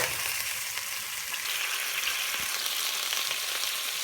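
Chicken sears in a pan for Filipino afritada, a steady, close, even sizzle of hot oil that holds without a break and has no talk over it.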